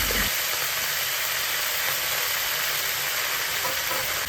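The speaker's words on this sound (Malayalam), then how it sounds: "ആദ്യം കറിവേപ്പില നമുക്ക് ചേർത്ത് കൊടുക്കാം ആ കറിവേപ്പിലയും കൂടി ഇട്ടിട്ട് നന്നായിട്ട് ഇളക്കി കൊടുക്കാം" Curry leaves sizzling in hot oil while being stirred for Kerala puli inchi, a loud, steady, close frying hiss filling the whole stretch with faint stirring scrapes beneath.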